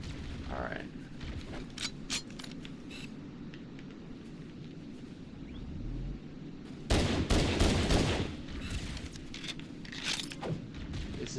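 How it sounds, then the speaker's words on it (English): Grenade explosions and bursts of gunfire from Halo CE combat rumble continuously, with a heavy blast cluster near the middle followed by dense, loud firing and booms, while a voice talks over parts of it. "This is the nade party,"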